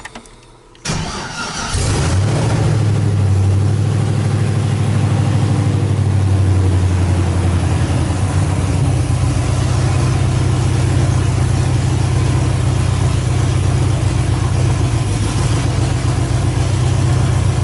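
A drift truck running open headers cranks briefly, catches and fires up, then settles into a loud, rough, rumbling idle that holds steady with slight throttle swells, close by with no talking.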